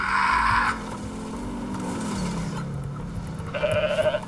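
A goat bleats in a Grand Theft Auto video game, a loud nasal cry at the start and again at the end, with a car engine droning and skidding in between.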